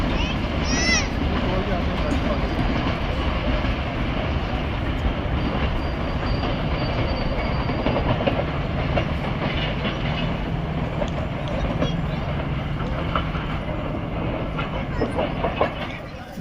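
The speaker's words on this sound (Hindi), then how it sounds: "14 डाउन अवाम एक्सप्रेस जो है वो आ रही है" Awam Express train arriving at Dina railway station, a steady loud rumble of rolling wagons with rhythmic wheel clatter and a brief high squeal, continuous throughout with a voice talking over it.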